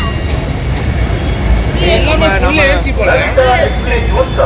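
A loud, continuous rumble of a train rolling past in Bangalore, with a crowd's chatter and voices mixed in over the steady rail noise.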